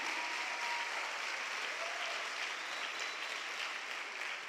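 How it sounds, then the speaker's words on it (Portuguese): Sustained applause fills a church arena as the congregation claps steadily and densely, with no pauses, over four and a half seconds. "Pode aplaudir ao Senhor."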